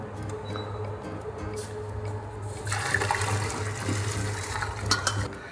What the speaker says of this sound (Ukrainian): промиваємо під проточною холодною водою